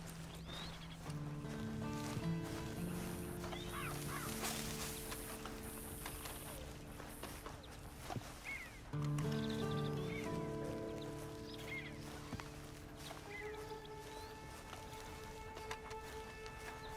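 Horse in Red Dead Online, a run of clip-clopping hooves with a whinny, set among in-game music and ambient sounds, fairly faint, with a brief voice in the mix.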